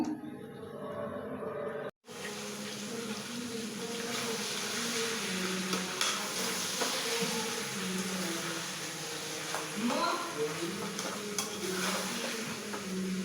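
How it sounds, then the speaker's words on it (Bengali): Onions frying in oil until browned, ahead of chicken leg pieces going into the pan: a steady, close sizzle with stirring and light pan scrapes running throughout, broken by a brief silent gap early on. "তো এখন আমি পেঁয়াজটা লাল কইরা তারপর আমি এটা ছেড়ে দেবো।"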